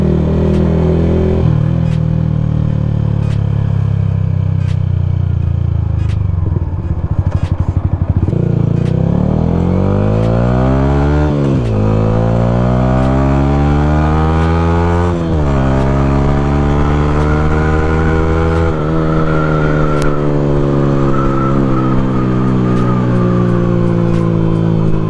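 A Sniper 155R motorcycle fitted with a UMA M9 exhaust revs loudly and close, its engine note rising and falling through repeated throttle blips over a steady idle.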